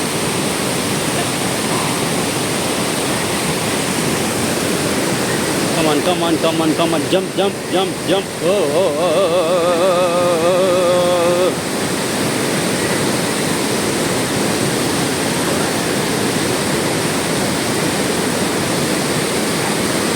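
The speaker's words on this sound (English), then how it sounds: "And there you can see the Cove waterfall." The Kov waterfall near Manali, on a Himalayan trekking path, sends up a steady, loud broadband rush that fills the whole stretch, with a few voices calling briefly over it partway through.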